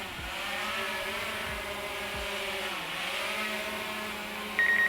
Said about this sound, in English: and we're down. And the motors will turn off